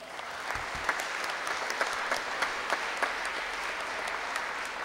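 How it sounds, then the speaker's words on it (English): A Lutheran church congregation at a Wednesday service applauds the youth, with steady, moderately distant clapping from many hands that sustains evenly throughout, with no talking. "Give them a round of applause."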